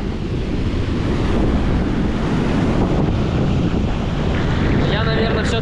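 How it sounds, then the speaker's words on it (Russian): Heavy sea waves roll and crash while strong wind buffets the microphone in a constant loud roar. "волна очень сильная и ветер поднялся нереально"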